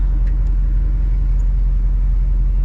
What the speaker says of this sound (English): Hear that throaty V8 sound pop up.